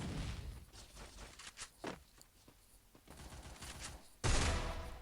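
Gunfire rattles in the Free Fire battle-royale video game in scattered bursts of rapid shots. A louder, denser volley erupts near the end, with no speech over it.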